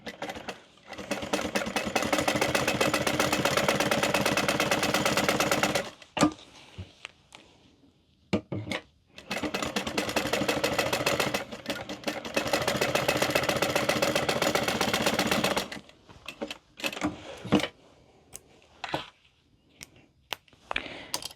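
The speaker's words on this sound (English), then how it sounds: "And then we are going to top stitch at 1/8 of an inch down each end or side." A sewing machine top stitches an eighth of an inch along the sides of a Gabriella handbag piece, running in two long steady bursts of about six and seven seconds, with brief pauses and small handling noises between.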